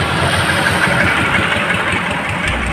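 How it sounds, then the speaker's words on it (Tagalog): Motorcycle engine idling close by, a loud, steady mechanical rumble that holds without a break and carries no voices. "At yan po yung motor na gagamitin nila"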